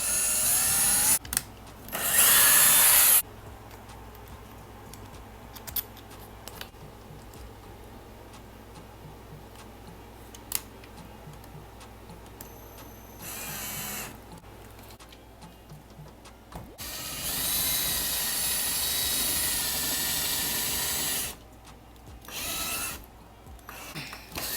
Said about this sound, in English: I'm going to drill pilot holes and attach it with screws.